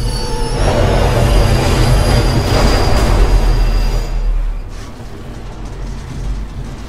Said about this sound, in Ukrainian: поїзд зійшов з рельсів нафіг